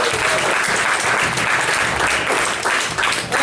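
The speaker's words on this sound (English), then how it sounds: "So give him another big round of applause for opening the show." Loud, dense applause from a stand-up comedy audience at a party venue in Utrecht, sustained clapping filling the room for a few seconds.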